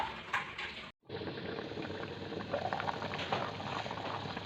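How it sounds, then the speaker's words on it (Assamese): Potatoes, peas and tomato boil in water in a covered pan with a steady, close bubbling hiss. It breaks off for a moment near the start, then runs on evenly. "এয়া দেখিছে ধুনীয়াকৈ উতলি আছে।"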